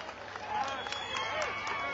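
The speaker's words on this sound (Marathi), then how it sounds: "त्यांच्यासाठी जोरदार टाळ्या वाजवून स्वागत" Crowd at a night Dahi Handi event in Pune clapping to welcome activist Manoj Jarange Patil, a steady dense wash of applause and cheering with a voice speaking over it.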